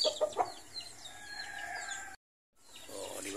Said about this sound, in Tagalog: Itong lovebirds, may kanta to sila.